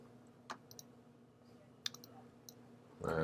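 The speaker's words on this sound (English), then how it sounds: "Double click." A computer mouse gives a few faint, sharp clicks, including a quick double click, over a quiet background hum, followed by a louder rustle at the end.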